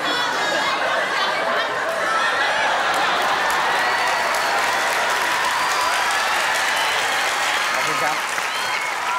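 Studio audience on a Thai SME business competition TV show applauds and cheers loudly and steadily throughout, with chatter and a little laughter in the crowd and someone briefly speaking over it.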